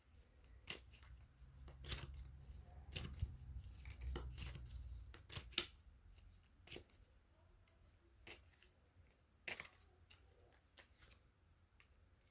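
Tarot cards being shuffled by hand, soft riffling and sliding under irregular sharp card snaps and taps, close and quiet.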